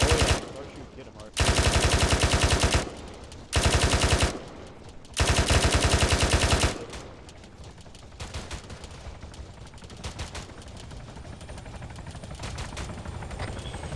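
Bursts of machine-gun fire in the video game Arma 3: three loud sustained automatic bursts in quick succession, followed by quieter scattered distant shots and background game noise.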